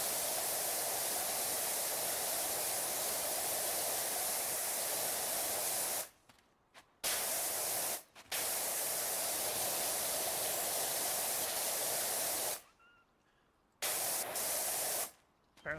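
A pressure washer in the video game PowerWash Simulator 2 sprays a loud, continuous hissing jet that cuts off abruptly a few times before resuming.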